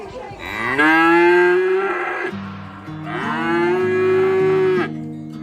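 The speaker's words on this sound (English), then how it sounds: "And in amongst all the mooing" Cattle mooing nearby, two long, loud, drawn-out bellows one after the other, with no talking over them.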